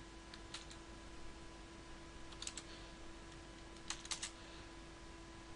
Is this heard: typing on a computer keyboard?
yes